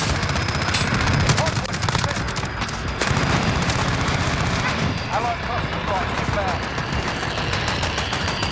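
An enemy shield turret in Modern Warfare lets off sustained rapid machine-gun fire, a dense loud rattle of shots running almost throughout, with voices over it.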